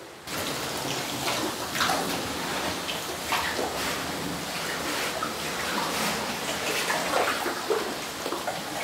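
Liquid screed pours and spreads across a garden room floor, giving a continuous wet splashing hiss with small bubbling and dripping details, steady and close, with no talking over it.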